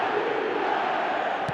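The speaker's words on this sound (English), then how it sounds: "the roof's just about stayed on, but the crowd level has gone up a notch or 10" Stadium crowd at an Arsenal home match against Manchester United roars after an Arsenal goal, a steady, dense wall of cheering that holds at full volume throughout the short stretch.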